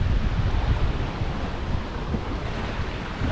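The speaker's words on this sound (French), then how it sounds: "La mer s'est lissée, heureusement, parce qu'il y avait des grosses vagues hein, ce matin." Wind and sea waves surround a sailboat crossing the open ocean from Tahiti to New Zealand, producing a steady roar of gusting wind and rushing water close to the microphone, with no voices.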